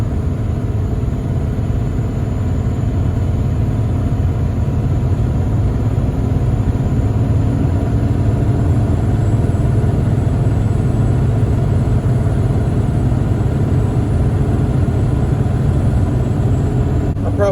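A loaded truck towing a hay trailer, about 32,000 pounds in all, labours uphill in fourth gear with a deep, steady engine drone and rumble that stays loud and close with no talk.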